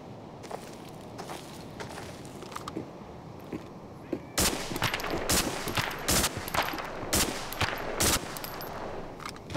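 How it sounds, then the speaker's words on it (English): Bursts of gunfire in the shooter game Arena Breakout, a quieter stretch of scattered shots giving way to a loud run of sharp, closely spaced cracks in the second half, with footsteps and a faint voice underneath. "I'm getting shot at"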